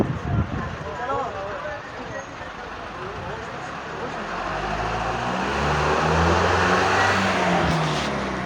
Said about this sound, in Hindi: लो जी गाड़ी